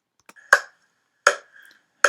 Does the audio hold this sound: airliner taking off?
no